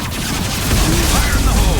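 A heavy, booming high-impact shot from Mass Effect 2 on Tuchanka, a loud low thump rising midway over a rumbling game soundscape.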